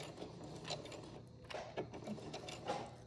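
A sewing machine back stitches fabric for a face mask, a soft mechanical whirr with quick rattling bursts and clicks as the needle reverses, close and alone without speech.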